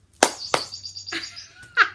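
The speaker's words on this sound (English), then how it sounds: "do you hear that bird in the background?" A small bird calls in short, sharp chirps and a few thin whistled notes, spaced irregularly over about two seconds, fairly close and clear against a quiet background.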